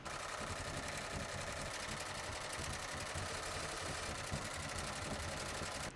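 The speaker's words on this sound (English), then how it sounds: "Return the hoop to your machine and stitch the tack down line and the lettering in the design." An embroidery machine stitches a tack-down line and lettering on an in-the-hoop mug rug. It gives a steady, continuous mechanical whirring hum with a fast repetitive needle rhythm throughout, even and unbroken.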